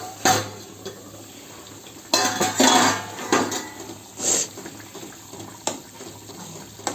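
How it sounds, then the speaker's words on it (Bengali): A cooking pot lid comes off over potatoes boiling for fish curry, with loud metallic clanks and scrapes in bursts, then quieter rattling and bubbling. "এবার আমি ঢাকাটা খুলে দেখে নেব।"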